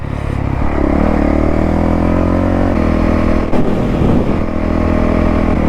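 A Honda CRF450L dirt bike on an offroad trail holds a loud, steady engine roar close by, surging briefly as the throttle is blipped to lift the front wheel.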